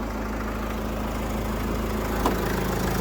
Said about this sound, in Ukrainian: Моторчик.